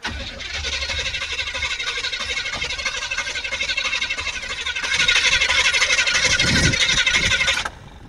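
A hot rod car engine cranking over and catching, a steady loud churning that swells louder near the end before cutting off abruptly, with brief voices nearby.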